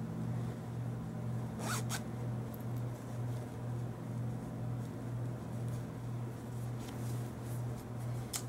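A zipper on a cheer uniform is pulled in a couple of quick, close rasps, then fainter zipping follows over a steady low hum.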